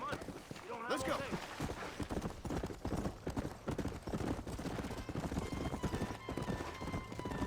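Horse hooves clip-clopping in Red Dead Redemption on a ride through Mexico, a quick steady rhythm of close hoofbeats running throughout, with a brief whinny near the start and voices talking over it.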